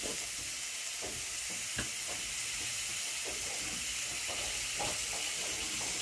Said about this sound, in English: we're going to throw the onions into the pan with a little bit of olive oil